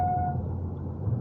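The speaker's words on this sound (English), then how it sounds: "See, you can hear those brakes." Brakes on a 2022 Audi RS3 let out a brief thin squeal at the start, fading within a moment while a low engine and road rumble carries on underneath.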